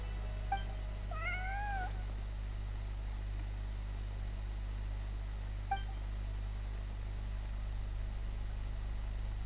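A cat meows in the video game Genshin Impact: a quick pair of rising, tonal meows near the start and one brief chirp later, set over a steady low electronic hum.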